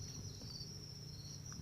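Crickets at a cricket farm trill in a steady, high, continuous chirp, faint and constant over a low rumbling background hum, with no voices.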